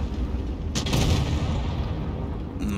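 Tank cannon fire in the World of Tanks Blitz video game, a dense booming blast with rumbling battle noise throughout and a sharper report near the end.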